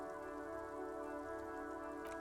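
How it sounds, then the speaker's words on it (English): Rain patters steadily on a woodshed roof in the Disco Elysium video game, a continuous close hiss layered over sustained tonal ambience, with no voices. "Rain falls onto the roof of a woodshed."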